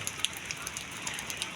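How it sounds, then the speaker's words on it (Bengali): Rain falls steadily during an outdoor village football match, a constant close patter broken by scattered sharper drop ticks, with faint voices mixed in. "বৃষ্টির মধ্যে চলছে খেলা"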